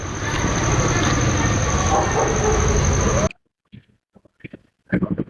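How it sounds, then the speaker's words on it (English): Loud, steady broadband rumble of a train in motion for about three seconds, then cutting out abruptly to near silence with a few faint brief sounds. "So here's what you're already hearing, the engine sound."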